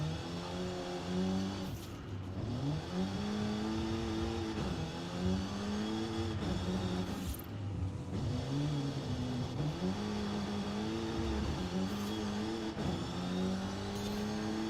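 A car engine in the Forza Horizon racing game rises and falls repeatedly as the car brakes hard and corners, with revs swooping up and dropping back through gear changes in a continuous, even drone and no voices.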